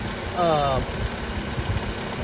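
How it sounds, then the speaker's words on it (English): A 2014 Nissan Versa Note engine idles after an AC clutch replacement, a steady close mechanical hum with a light uneven rattle, while a voice talks over it briefly near the start. "so I got the car running."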